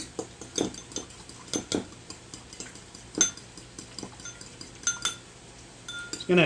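A spoon stirs and mixes salmon and turnip stew ingredients in a pot, with irregular metallic clinks and scrapes against the sides, fairly close and moderately loud, spaced unevenly over several seconds.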